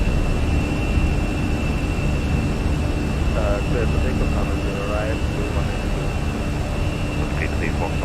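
An Airbus A320 in the Fenix flight simulator rolls for takeoff, its jet engines a steady, loud, broadband roar that holds evenly throughout, with faint radio chatter in the background.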